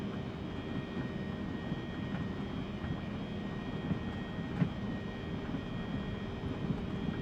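An Embraer E175 airliner makes its takeoff roll in the X-Plane flight simulator, with a steady, loud engine roar and broadband rumble running throughout and a single brief thump partway through.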